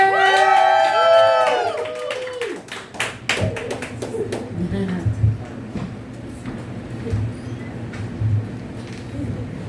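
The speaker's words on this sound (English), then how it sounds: "let's please get a big, warm round of applause for Elizabeth Reeder" An audience at a workshop event claps and cheers for a performer, starting with bright whistles and whoops, then dense applause that thins into scattered claps and crowd murmur.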